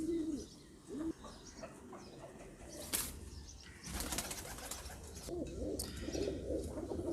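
Pigeons coo in soft, repeated throaty phrases close by, with rustling and occasional wing flutters in the background.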